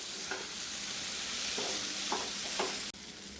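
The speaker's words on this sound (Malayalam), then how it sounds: "ഇടയ്ക്കൊന്ന് ഇളക്കി കൊടുക്കണം കേട്ടോ" Chena and long bean mezhukkupuratti drying in a pan, a dense continuous sizzle with several soft scraping stir strokes spaced about half a second apart, close by, then a brief dip near the end.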